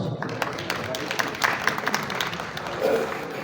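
An audience at a political gathering claps in scattered applause welcoming the host, patchy and moderately distant, with a voice speaking over part of it.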